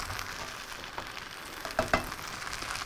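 A goat's cheese risotto pan with rice and courgettes sizzles steadily as a touch more stock is poured in, with a couple of sharper crackles near the end and no talking.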